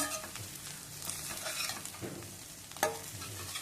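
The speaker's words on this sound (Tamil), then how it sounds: "இது நல்லா இந்த இதில் சாட்டே பண்ணி விடணும், இந்த எண்ணெயிலே நல்லா வதங்கணும்." Broccoli sautés in hot oil in a pan, a soft, steady sizzle broken by scraping stirs, quiet and close with no voices.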